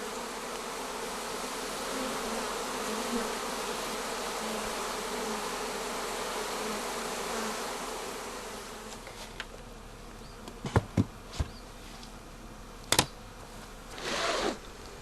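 Honeybees hum steadily at a colony being examined for virus infections, a dense close buzz that thins out midway, followed by a few sharp clicks and handling knocks near the end.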